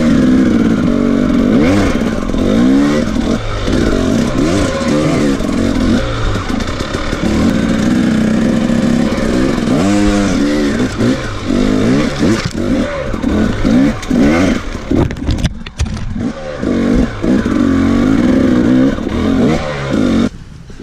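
A four-stroke dirt bike engine on a trail during a riders' demo day at a cycle ranch, loud and close, revving up and down repeatedly with throttle bursts and rough idle between them.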